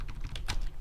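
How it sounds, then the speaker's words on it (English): Quick typing on a computer keyboard while entering JavaScript code, a short run of close, light key clicks with one sharper tap near the end. "So I'm going to type console.log"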